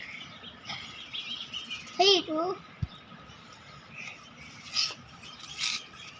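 A sparrow gives a few short, soft chirps in quick bursts, with a voice speaking nearby.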